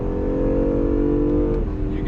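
A 2017 Acura NSX hybrid V6, 573 horsepower, drones steadily on a race track, its engine note holding a sustained hum with a slight dip near the end, loud and continuous throughout.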